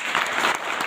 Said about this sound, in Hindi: ताली बजाएंगे ना।